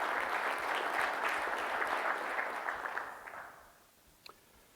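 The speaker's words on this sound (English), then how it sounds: "So if we could we please give those in the room a round of applause" A room audience applauds at a recyclability design recognition event, a dense steady patter of clapping that holds for about three seconds and then fades out, leaving near silence with one faint click.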